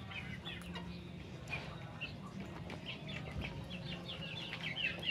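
Three-month-old Mangon chickens clucking softly in short scattered calls, with several birds heard close by over a quiet background hiss.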